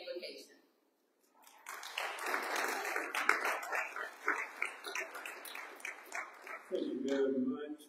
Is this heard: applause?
yes